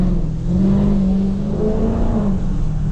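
Dodge Scat Pack V8 revving in steady bursts with light throttle taps while sliding through a wet, rainy corner, loud and close from inside the car with a low rumbling drone throughout.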